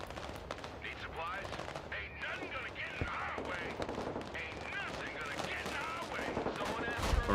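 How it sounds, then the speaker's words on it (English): Gunfire in the USA-versus-Russia war game Broken Arrow, a busy mix of rapid machine-gun bursts and scattered single shots under a steady battle din, with a voice talking over parts of it. "The gunfire sounds are great."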